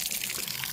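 Water from a tap along a hiking route gushes in a steady, close hiss for a brief moment, alone.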